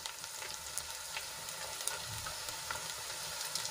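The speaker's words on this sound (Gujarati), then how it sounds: "તો હવે એમાં આપણે ટમેટા એડ" Tomatoes tipped into golden fried onions sizzle steadily in the pan, with a dense crackling hiss and scattered soft scrapes of stirring throughout.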